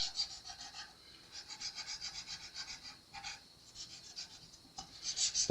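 Guitar frets on an Epiphone Flying V are polished with a medium grit abrasive pad, giving soft, close rasping strokes in quick back-and-forth bursts with brief pauses between passes.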